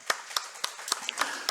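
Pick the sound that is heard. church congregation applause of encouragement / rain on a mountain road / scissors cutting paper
church congregation applause of encouragement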